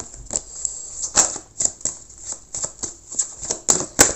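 Tarot cards are shuffled for a reading, giving a quick, uneven run of crisp riffling flicks and snaps close up, with no talk.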